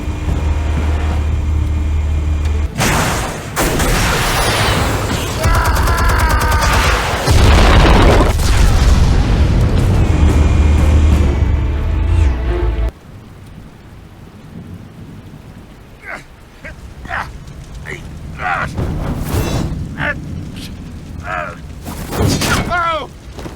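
Explosions in Batman: The Telltale Series: heavy booming blasts and rumbling roar fill the first half, loud and dense, then cut to a quieter stretch with scattered sharp cracks and debris sounds.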